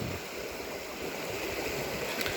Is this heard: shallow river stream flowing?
yes